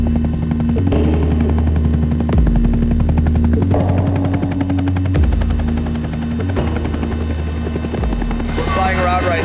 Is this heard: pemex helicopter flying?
yes